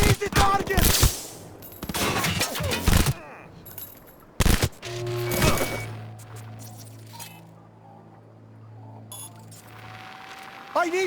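Gunfire in Cyberpunk 2077 arrives in dense bursts of rapid shots early on, then a few sharp cracks and a sustained low hum, with game voices calling out between the volleys.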